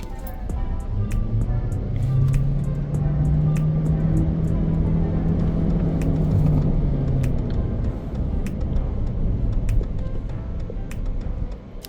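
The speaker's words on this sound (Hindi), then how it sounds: "अभी इस गाड़ी का stand still say 0 to 100 check करते हैं।" A BYD Shark 6 plug-in hybrid pickup with dual motors and 436 hp pulls hard from standstill to 100 km/h, a steady cabin rumble with a tone rising and falling as it gains speed, continuous for about twelve seconds.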